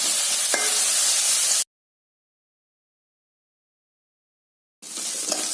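Onion and vegetables sautéing in a pan for chilli gobi make a close, steady sizzle that cuts out to silence for about three seconds, then resumes.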